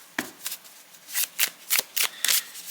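A deck of playing cards being shuffled, heard as a series of about six crisp riffling bursts at a steady, quick pace, close and fairly quiet, with no talk.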